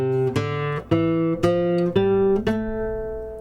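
A nylon-string classical guitar plays a scale fingerstyle using alternating index and middle rest strokes: about six clear, evenly spaced plucked notes, close and alone, each ringing into the next.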